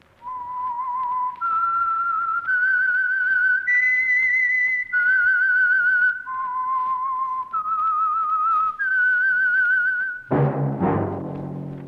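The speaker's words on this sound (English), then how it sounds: "That whistle is your signal for the Signal Oil Program, The Whistler." A whistled theme melody, the signature tune of the 1940s Signal Oil radio mystery program The Whistler, rises and falls in clear held notes, loud and alone, ending in a brief burst of orchestral music.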